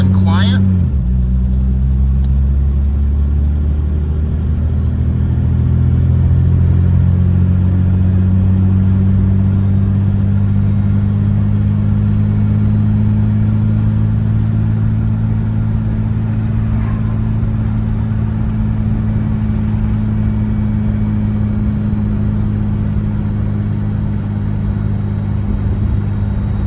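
A 1956 Jaguar Mark VII M engine drones loudly and steadily while driving, settling from an initial rev into a smooth, even mid-pitched hum that holds for the rest of the run.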